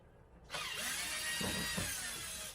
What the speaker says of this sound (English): I'm just going to use my electric drill to